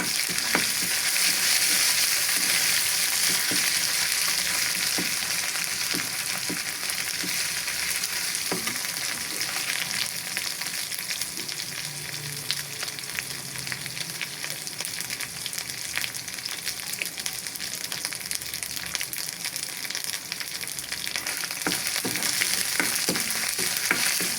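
Ginger paste fries in a pan with bay leaves, a continuous close sizzle and crackle with scattered small pops and a few stirring scrapes, unbroken by speech.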